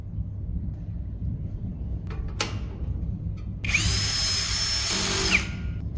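A power screwdriver drives screws while a home solar battery storage unit is assembled, a short clack followed by a whirring burst of about two seconds that winds down, heard close over a low background hum.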